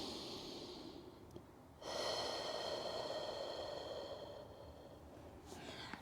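During a yoga stretch, a deep breath is drawn in and then released in a long, close, airy exhale that settles into the mat, heard alone over a quiet room hum.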